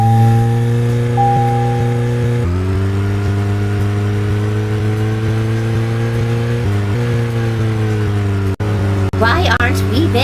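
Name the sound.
car driving in the video game Deadly Premonition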